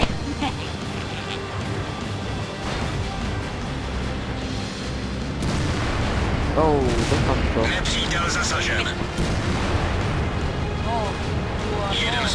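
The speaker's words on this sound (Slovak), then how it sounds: "Ste videli moju epickú explóziu." World of Tanks battle with tank cannon fire and explosions, heavy booming shots and blasts building in loudness over the second half, with people talking throughout.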